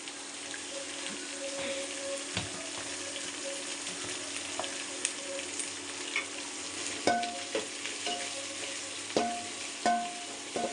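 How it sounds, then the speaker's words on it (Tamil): Onions sauté in a pan for coriander chutney, a soft continuous sizzle with occasional clinks and scrapes of stirring, close and fairly quiet. "வெங்காயம் போட்டுச்சுங்க. வெங்காயம் நல்லா வதங்கட்டும்."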